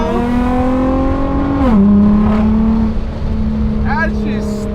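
A widebody Nissan GT-R engine blips on a downshift and then pulls, a loud, close, tonal drone that drops in pitch and then holds steady as the car lightly accelerates.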